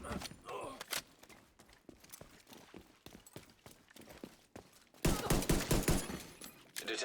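Sharp, repeated shots from The Division 2 ring out in a steady rhythm, moderately loud, then intensify into a denser, louder volley of gunfire near the end.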